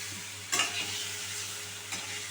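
Chicken pieces frying lightly in white oil give a steady soft sizzle, broken by two brief clatters of stirring, one near the start and one toward the end, with no one speaking.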